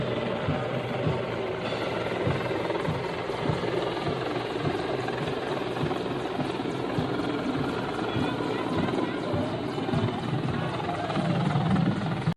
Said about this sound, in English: This helicopter accidentally blows down VIP podium in a parade.